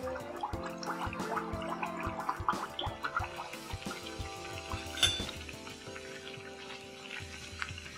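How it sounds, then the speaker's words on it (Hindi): Mathri pastries frying in hot oil over a low gas flame, a quiet bubbling sizzle with clinks and knocks of utensils against the pan as pieces go in one by one. "अब हम इसमें एक एक करके मठरी डालते जाते हैं।"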